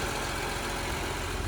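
A BMW E46 M3 coupe engine idling smoothly, a steady low broadband hum held at an even level with no knocks or rattles, close and unbroken throughout.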